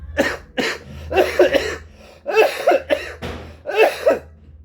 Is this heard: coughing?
yes